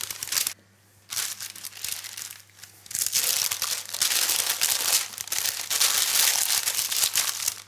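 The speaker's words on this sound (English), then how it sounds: "This is too small, this piece of paper." A paper map is crumpled and handled, with bursts of crinkling and rustling that start and stop, then grow into steady close, loud handling with no talking.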